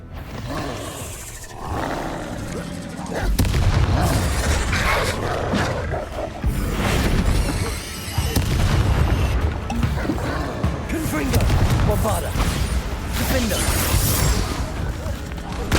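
Spell explosions from Confringo and Bombarda casts in Hogwarts Legacy, loud blasts and roaring bursts repeating through a dense, busy combat mix with game voices over the top.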